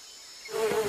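An unknown cartoon fly buzzes in close, a short rising drone that swells louder in under a second.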